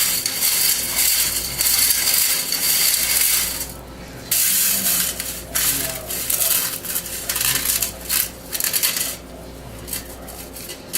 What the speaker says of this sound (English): Some of my citric acid does not want to grind up.